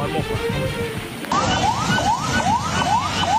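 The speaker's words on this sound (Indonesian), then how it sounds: "sebuah ambulans yang membawa pasien nekat menerobos Sungai Nevopal" An ambulance carrying a patient pushes across a flooded river in Kupang, Indonesia, with its siren whooping in a repeating rising wail. The siren is loud and close over rushing water and vehicle noise, and a voice can be heard in the mix.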